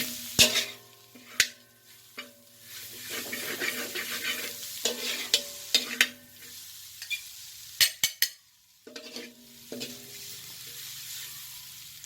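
Mama instant noodles being stir-fried and tossed in a pan, with a gentle sizzle under frequent sharp clacks and scrapes of a utensil against the metal, close by and fairly quiet.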